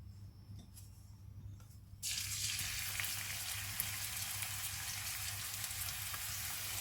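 A quiet start gives way abruptly to loud, steady sizzling as garlic paste hits hot oil and keeps frying evenly.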